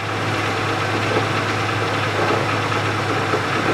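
Idling Chevrolet Lanos with a worn bearing knocking inside its manual gearbox: a steady, close engine drone with a low hum and faint irregular knocking, no voices.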